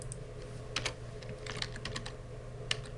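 Typing SQL code on a computer keyboard: soft, irregular key clicks in small clusters over a constant low hum, close and fairly quiet, with no talking.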